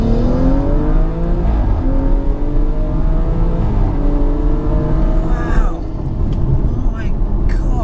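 A 560 bhp BMW M135i accelerates hard, its engine note climbing steadily through the revs as a loud, close roar fills the cabin, with a brief break near the end as the power drops.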